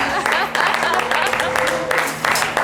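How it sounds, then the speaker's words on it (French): Crowd clapping in waves at a Christmas celebration show, with a steady musical hum running underneath. "on peut l'applaudir très fort"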